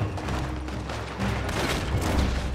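Gunfire in Red Dead Redemption 2 during a headshot: a dense, loud crackling blast of shots and booming game audio filling the short moment without pause.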